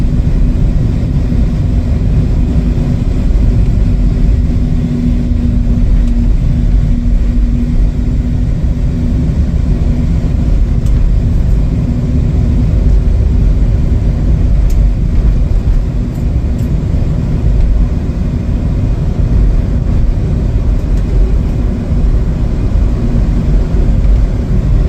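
A 2018 Chevrolet City Express LT cargo van on a test drive, heard as a steady, loud, low rumble of engine and road noise throughout, with no voices.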